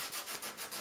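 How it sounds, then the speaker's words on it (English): Sandpaper rubs back and forth over hardened Polycell expanding foam filler in a wall hole, several quick, soft, raspy strokes close up and alone. "So I'm just sanding it down until it's smooth."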